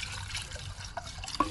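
Water poured from a tap into a measuring cup at a campsite: a soft, faint splashing trickle that runs throughout, ending in a brief brighter splash near the end.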